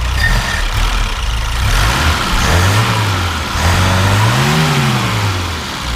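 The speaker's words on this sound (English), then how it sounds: "Go ahead and rev it up." A cold 1976 BMW 2002 coupe engine is revved up from idle several times, pitch rising and falling in slow swells, loud and close.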